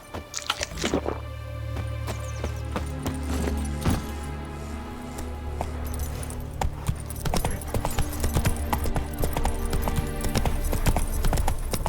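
Horse hooves galloping in The Witcher 3 video game, a steady clip-clop rhythm running the whole time, with game music and scattered sharp effect sounds layered on top.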